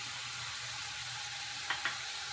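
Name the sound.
tempering with turmeric frying in pan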